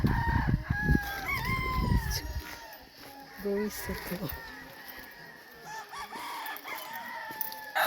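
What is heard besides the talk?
fighting roosters crowing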